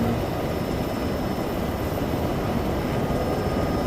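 Military helicopters land in the game Arma 3, a loud, steady, dense rotor and engine roar filling the scene continuously with no voices.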